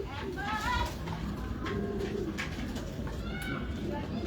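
Pigeons coo in short burbling calls nearby, two or three phrases rising over a steady murmur, with people talking in the background.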